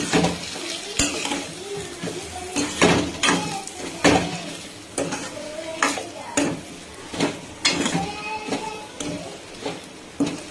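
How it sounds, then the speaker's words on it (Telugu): Potatoes stirred with salt and chilli powder in a pan, a spatula scraping and clinking against metal in a repeated rhythm, with light frying underneath, close and clear. "ఒకసారి ఇలా కలిపేసుకుందాం మొత్తం"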